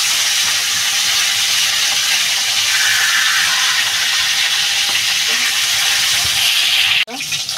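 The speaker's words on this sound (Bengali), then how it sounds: "মাছটা আমার ভাজা হয়ে গেছে" Small fish such as boal and richa fry in hot oil, making a loud, continuous close-up sizzle that is stirred now and then and ends with a sharp clatter.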